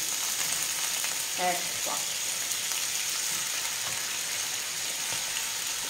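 Tuna pieces crackle and sizzle steadily in a frying pan, a dense continuous hiss with small pops close by, while a voice speaks briefly over it.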